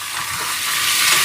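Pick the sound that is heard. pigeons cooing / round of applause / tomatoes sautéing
tomatoes sautéing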